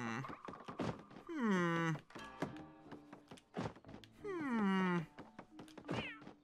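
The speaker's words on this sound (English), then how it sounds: "Oh, it's a kitty!" A cartoon cat in Paper Mario: The Origami King gives two long, drawn-out meows with rising and falling pitch, clear and close, separated by short thumps and game sound effects.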